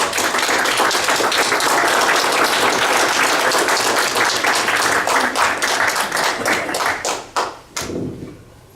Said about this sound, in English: So a big round of applause for all the members.